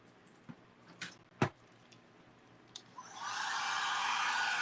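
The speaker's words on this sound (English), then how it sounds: "Now I get the dryer out." A few scattered taps and clicks at a craft table give way to a handheld dryer switching on, its steady, fairly loud whirring airflow running alone through the final second and a half.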